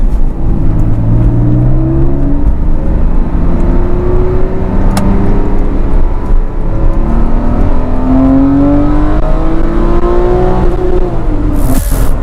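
A Porsche 911 997 Carrera 4S flat-six engine revs hard and close, its loud, steady drone climbing in pitch through several sweeping gear pulls, with no talking.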